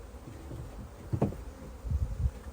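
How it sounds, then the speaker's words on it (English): Honeybees buzzing around an open hive with honey-filled frames, a soft continuous drone broken by several nearer, louder bee passes. "All these bees."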